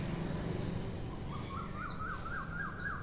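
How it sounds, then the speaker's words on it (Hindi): An Asian koel calls repeatedly in a rising series of clear whistled notes, building over a steady background rumble of traffic or wind, moderately distant and alone without talk. "कोयल की आवाज़"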